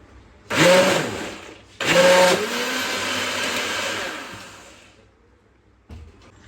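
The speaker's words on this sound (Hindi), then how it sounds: "मैंने दही और बेसन को अच्छे तरीके से ग्राइंड कर दिया है" A blender whirs as it grinds yogurt and gram flour (besan) in a jug for spinach kadhi, loud and close, in two bursts with a short pause between, then winding down to quiet.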